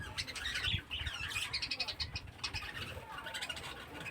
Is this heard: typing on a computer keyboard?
no